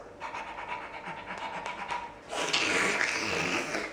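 A person imitates a dog panting with rapid, breathy huffs, ending in a louder, wetter, slobbery burst.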